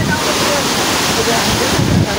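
A large stepped waterfall roars, steady, loud and close, a dense continuous rush of falling water with a faint voice barely showing through.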